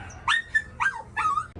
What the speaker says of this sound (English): So the dogs are going cray-cray.